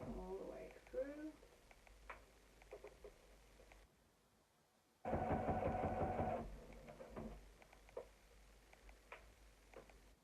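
A domestic sewing machine stitching through layers of fabric for a sanitary towel holder: a faint start, a brief pause, then a louder steady whirring run of rapid stitches. Quiet talk is heard around the stitching.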